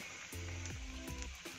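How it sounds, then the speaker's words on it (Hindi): Potato snacks fry in hot oil, a soft continuous sizzle with small bubbling pops, faint and close, without voices. "अब हम इन्हें फ्राई करेंगे, तो इसके लिए तेल को अच्छे से गरम कर लिया है मैंने"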